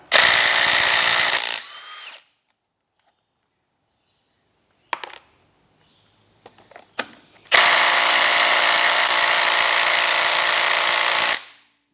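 A power tool whirs loudly in two long bursts, loosening bolts in a crisscross pattern from the centre outward on a Honda CBX750F motorcycle under restoration, with a few small metallic clinks and taps between them.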